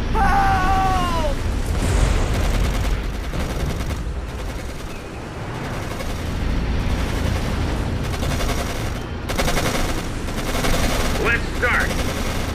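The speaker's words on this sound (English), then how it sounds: "They're shooting at us!" Continuous gunfire and machine-gun bursts in the World War II strategy game Codename Panzers: Phase One, Battle of the Bulge, with dense rattling fire and occasional booms throughout, loud and near, with brief shouted voices.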